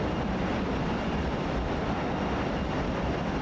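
Fokker F28 jet engines drone steadily in Microsoft Flight Simulator 2024, a loud continuous broadband rumble heard from the cockpit in cruise, with no talking.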